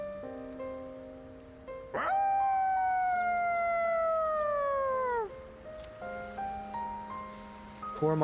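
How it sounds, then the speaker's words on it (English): A dog howls in a quiet shrine in the video game Persona 3 Reload, one long, loud, sustained, falling howl over soft game music, followed by quieter background tones. "Koromaru's howl resounds throughout the quiet shrine."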